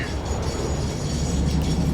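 A freight train rolls past in the factory-building game Satisfactory, a steady loud rumble with faint rhythmic clicking of wheels, heard alone without talk.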